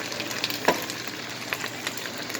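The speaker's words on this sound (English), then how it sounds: "you can hear it frying already" Steady crackling sizzle of cabbage stir-frying in a hot pan, with scattered pops and a soft stir, up close and continuous.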